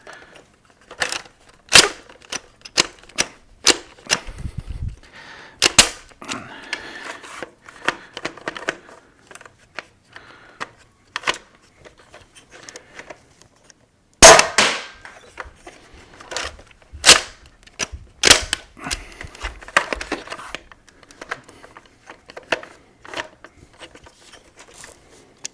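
Indra 3D-printed Nerf blaster loaded and fired, giving a string of sharp mechanical clacks and snaps at irregular intervals, with a few louder bursts, close and alone.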